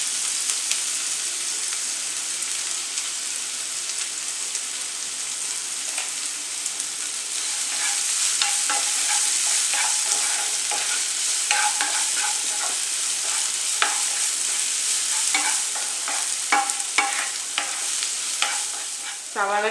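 Onions sautéing with salt in a pan for a Kerala tomato rice dish, a steady close sizzle and fry broken by scraping stirs that grow busier and louder midway, with no talking.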